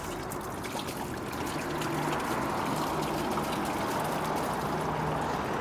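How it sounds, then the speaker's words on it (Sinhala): Water from a plastic bottle bought at a Coop store in Switzerland pours out in a steady, continuous splashing rush that holds at even loudness for several seconds. "ඒ වතුර බෝතලේ මං හලනවා මෙහෙම."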